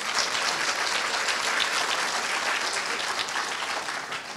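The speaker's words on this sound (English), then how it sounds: "Give them a round of applause." A university event audience gives a steady round of applause, moderately loud and evenly sustained for several seconds before easing slightly at the end.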